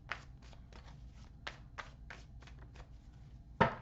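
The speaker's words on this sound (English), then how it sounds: "Just a little bit more shuffling." Tarot cards being shuffled by hand produce a string of quick, soft riffling bursts, fairly close and quiet, ending with a sharper snap as the deck is squared.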